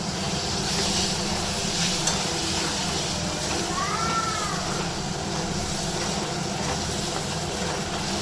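Tomatoes hit a frying masala for a fish curry, giving a dense, even sizzle that hisses steadily and close by throughout without pause.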